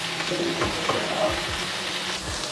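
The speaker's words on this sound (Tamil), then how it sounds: "கத்திரிக்காய் பொரிய போடைக்குள்ளேயே போட்ட உடனே கொஞ்சம் பெருஞ்சீரகம், ஒரு தேக்கரண்டி பெருஞ்சீரகம், ஒரு தேக்கரண்டி சின்ன சீரகம், ரெண்டையும் போட்டு மிக்ஸ் பண்ணி விடுவோம்." Fennel and cumin seeds hiss and crackle in hot oil among frying eggplant, a steady close sizzle with light stirring scrapes, and no voices.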